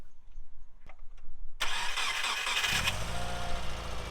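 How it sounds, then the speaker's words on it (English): A few faint clicks, then a Subaru Forester engine cranks loudly, catches, and settles into a steady rumbling idle. "I needed the engine running to get that one to move."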